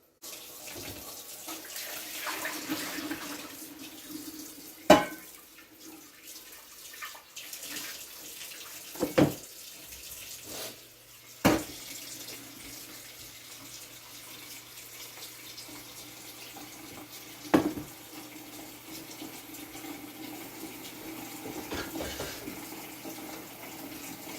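A kitchen faucet runs water for boiling, a steady broadband flow at moderate level with a few sharp clunks and knocks of a pot or sink along the way, and no talking.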